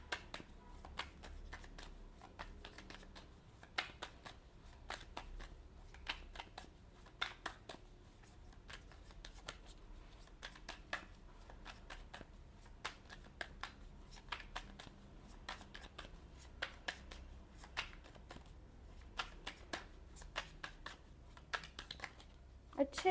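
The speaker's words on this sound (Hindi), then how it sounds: "अच्छे से कार्ड्स को शफल कर लेते हैं" Tarot cards being shuffled close up: a steady run of soft riffling and papery flicks with sharp snaps throughout, over a faint low hum.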